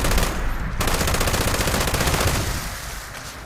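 Quad LMG firing in Fallout 76, a loud continuous stream of rapid automatic gunfire that rattles on without pause for several seconds before easing slightly at the end.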